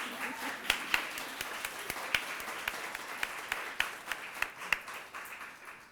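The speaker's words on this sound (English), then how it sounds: "I think she deserves a proper clap" Applause from an evening audience at a mayoral event, a steady bed of clapping with a few sharp, loud individual claps standing out near the microphone, tapering slightly toward the end.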